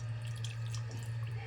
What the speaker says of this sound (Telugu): వాటర్ కొంచెం వేద్దాం